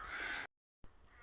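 Crows cawing in a remote Scottish forest, a loud burst of harsh bird calls lasting about half a second, then a brief silence before fainter outdoor ambience returns.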